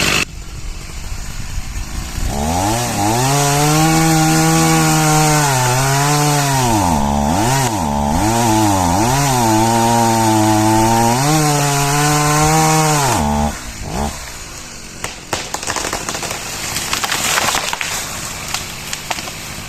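A chainsaw roars loud and close while felling a tree, its engine pitch rising and dipping as it bites into the trunk, then cutting off near the end, leaving some rustling and cracking.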